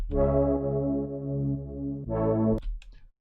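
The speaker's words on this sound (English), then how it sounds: "Then we have Synth Calm, which is a saw pad and it sounds like this." A thick, sustained synthesizer saw pad built from two oscillators plays one chord, then shifts to a second chord that breaks off abruptly. It sounds loud, buzzy and wide.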